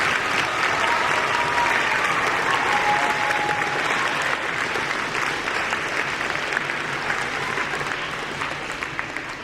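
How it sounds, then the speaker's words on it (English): Sustained, loud applause from a school assembly crowd of sixth graders for Kate Powell, a dense steady clapping that lasts the whole stretch and tapers slightly toward the end. "let's give one more big round of applause for Kate Powell"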